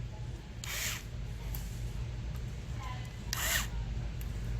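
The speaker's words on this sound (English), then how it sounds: "I'm not even really letting it go down all the way with the driver, because I don't want to strip anything out" A power driver tightening screws on RC bead lock wheels whirs in two short bursts over a low steady background hum.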